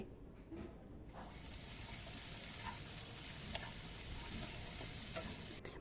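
Pieces of bitter gourd hit hot oil left from frying aubergines and erupt into a loud, steady sizzle that holds on after a quieter start, with occasional stirring clicks of a utensil.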